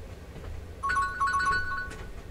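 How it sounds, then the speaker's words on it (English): Phone ringtone chiming a short repeating electronic melody, moderately loud over a low background hum, without talk. "Your phone's ringing."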